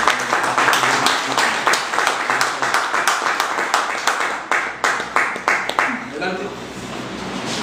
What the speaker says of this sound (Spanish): Quiero que le deseamos con un fuerte aplauso.